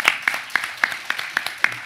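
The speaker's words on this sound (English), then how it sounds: "Big round of applause." Applause at a brand-collaboration panel at a summer creator convention, about seven evenly spaced, sharp claps, fairly close and a little reverberant, like one person clapping slowly rather than a crowd.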